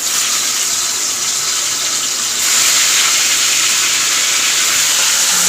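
Fish hits hot frying oil with a loud, steady hiss of sizzling that swells and grows denser partway through, with no talking over it.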